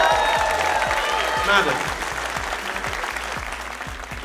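Audience clapping at a comedy show, loud at the start and thinning as a voice speaks over it, with a steady low rhythmic thump running underneath.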